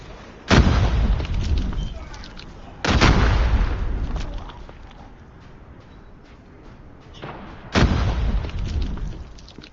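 Frag grenades going off in Call of Duty Mobile, three heavy booms spaced a few seconds apart, each with a long rolling decay, loud and close with no talk over them.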